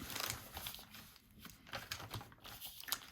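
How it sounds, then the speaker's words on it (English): Scissors cutting through a brown paper mailer come through as irregular, close crinkly snips and rustles, fairly quiet, with no talking. "I'm just going to cut the rest of these up."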